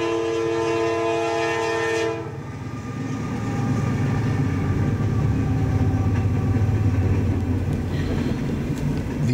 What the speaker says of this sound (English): It's gonna be a slow train.